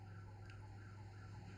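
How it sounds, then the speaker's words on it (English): Sirens wail faintly outdoors, a thin sustained tone drifting over a low steady hum, distant and quiet for the whole moment. "You can hear a lot of siren."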